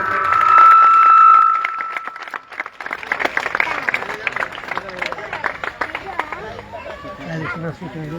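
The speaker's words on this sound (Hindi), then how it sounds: "एक बार ताली हो जाइए जोर से।" Audience at a Hindi-speaking community protest gathering in Saran breaking into loud clapping and cheering, a burst of applause that swells early then continues as scattered claps under crowd chatter and a voice.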